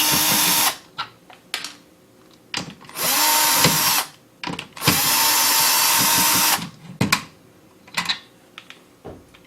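A power screwdriver whirs in several bursts of a second or two as it backs the factory fan screws out of an AIO liquid cooler radiator, with short clicks and handling noises between the runs.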